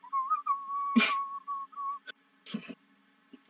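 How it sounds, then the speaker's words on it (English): A shrill whistling cockerel toy plays a wavering tune, followed by a couple of short bursts of noise and quieter rustles. "Yeah, the whistling cockerel."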